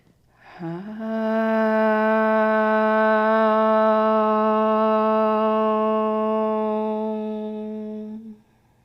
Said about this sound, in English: join for the sound of Om